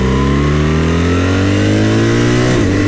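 A BMW R1300GS motorcycle engine accelerating hard, a loud close rising growl that climbs steadily in pitch, then briefly dips as if shifting gear.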